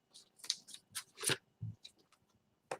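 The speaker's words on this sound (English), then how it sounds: "shuffle my deck again" A tarot card deck is shuffled close by in a series of quick papery riffles and taps, irregular and fairly quiet, without speech.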